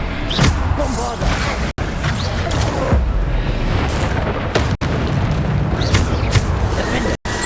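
A Bombarda blasting spell in Hogwarts Legacy goes off amid a busy stretch of spell combat, with booming impacts and crashing bursts over constant game noise while a player calls out spell names.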